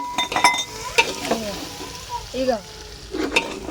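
Spices and tomatoes hit hot oil in a pan for fish curry, a steady sizzle with a spoon stirring and clinking against the metal, and a brief spoken word over it.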